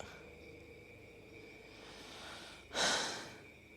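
Heavy, labored breathing from someone out of breath outdoors at night, a steady wheezy exhale with a loud sharp gasp near the end, close to the microphone with no talk.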